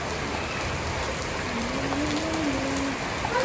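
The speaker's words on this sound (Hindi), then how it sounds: "तेज बारिश हो रही है।" Steady, dense rain pours down in a continuous loud hiss, drumming on surfaces nearby with no break.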